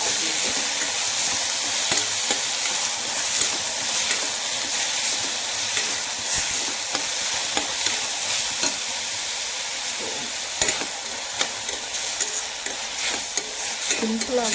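Two tomatoes and Gandhari chilies frying in a pan for egg bhurji, a loud continuous sizzling hiss close by with occasional light taps and scrapes of stirring, no talk.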